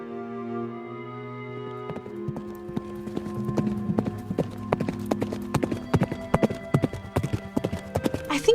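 Horses ridden at a steady pace, their hooves clip-clopping in a dense, rhythmic patter that builds and grows louder over a sustained musical bed, with no talk.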